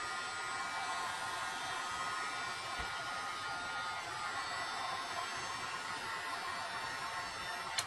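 A heat tool blows steadily on its low setting over resin, a continuous airy hiss held at even loudness with no one talking.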